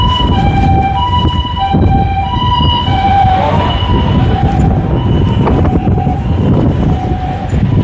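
A loud wailing siren with rising and falling tones plays continuously over a dense, rumbling background, like an emergency vehicle blaring nearby.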